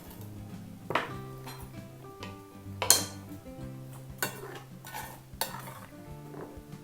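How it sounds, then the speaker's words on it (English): Breadcrumb topping stirred in a pan, a soft sizzle under irregular spoon scrapes and clinks against the metal, with a few sharper knocks. "Stir it a little bit."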